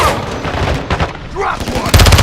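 Gunfire in a military shooter video game, dense bursts of shots and booms crowding the whole moment, loud and close, with shouted voices mixed in among the firing.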